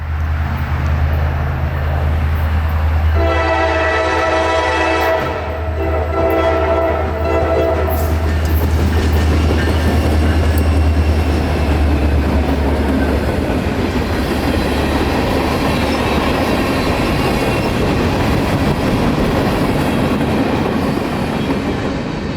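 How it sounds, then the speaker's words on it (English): A freight train led by three locomotives, a slug set and a GP38-2, passes close by with a loud, steady engine rumble. A horn blast sounds early on, and the wheels keep rolling and clacking throughout. "Rarely for this train today, he had 3 locomotives, the first 2 being a slug set and GP38-2 number 2765."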